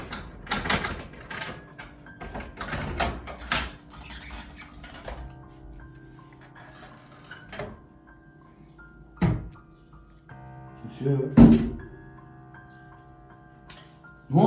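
Someone pounds on a door in a house at night: loud, sharp thumps in a quick cluster, then isolated heavy blows spaced several seconds apart over a faint steady hum.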